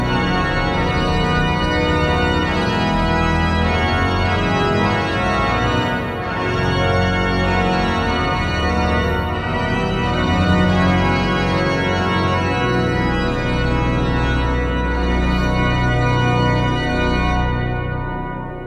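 Pipe organ at Neresheim Abbey playing a dense, loud, sustained chord texture with deep bass and rich upper harmonics, steady throughout with a soft airy wind noise working in the background, no voices.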